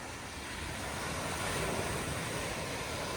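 Ocean waves break against a frozen, icy shore in below-zero winter cold, a steady broad roar of surf mixed with wind buffeting the microphone, loud and continuous with no talk.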